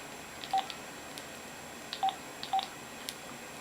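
Touch-tone keypad beeps as a phone dials a call, three short clear tones spaced out over a few seconds against quiet room noise.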